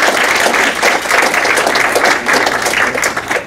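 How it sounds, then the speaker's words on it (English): At a medical institute graduation, a crowd claps loudly and steadily for the graduates' families, a thick, continuous roar of hands with no talk over it. "So I think we should give your family a round of applause."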